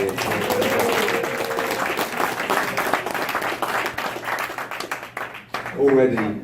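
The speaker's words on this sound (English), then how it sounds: "just a quick round of applause for the newly crowned WBO middleweight champion of the world, Demetrius "Boo Andre."" Round of applause at a boxing press conference for a newly crowned WBO middleweight champion, steady clapping from a modest crowd with voices talking over it, tapering off near the end as speech returns.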